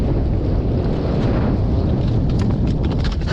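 Strong wind buffets the microphone beside a river during spinning-rod fishing on the Pechora, a steady loud roar of gusts and low rumble throughout with no voices.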